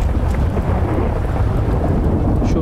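Rain pours steadily with low rumbling thunder underneath in a zombie-city survival video game, loud and continuous throughout with no voices.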